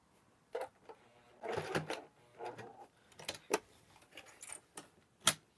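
A sewing machine stitches an oven dress towel in short bursts of mechanical whirring separated by pauses, with a sharp click near the end.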